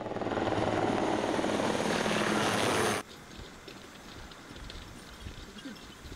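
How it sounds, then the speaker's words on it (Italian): Army helicopter flying near military camps along a Himalayan trail toward K2, its loud rotor and engine roar filling the first three seconds before cutting to a much quieter outdoor background. "Lungo il sentiero altri accampamenti militari, riforniti di continuo dagli elicotteri dell'esercito."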